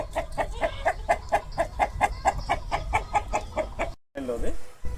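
Rapid, regular clucking from a GP-line rooster of about 4 kg, a quick series of sharp repeated notes over low background noise, close to the listener.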